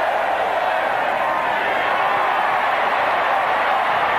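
Texas A&M Aggie football crowd in a 1988 stadium game against Texas Tech, a dense, steady roar of distant applause and cheering that fills the whole span at an even level.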